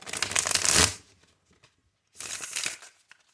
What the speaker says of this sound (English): Let's see if I can shuffle now.